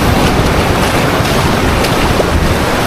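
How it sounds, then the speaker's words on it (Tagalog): Storm-driven sea waves surge against a shore, a loud, continuous roar of surf with wind buffeting the microphone throughout, no voices. "Grabe yung alon dito."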